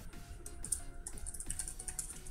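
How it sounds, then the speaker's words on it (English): Quick, light keystrokes tap on a computer keyboard during a live-streamed Boom Beach game session, an irregular patter of soft clicks at close range, fairly quiet. "Am I typing it right?"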